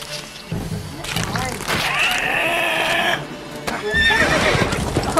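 Geralt's horse Roach in the game Witcher 3 whinnies and gallops, hooves clopping under a loud, busy game mix with voices talking over it.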